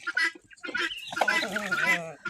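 Chickens cluck and a rooster calls nearby, a short burst of busy fowl sounds with a loud crowing-like cry in the middle.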